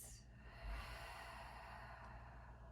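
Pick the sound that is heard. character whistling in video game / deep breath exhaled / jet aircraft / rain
deep breath exhaled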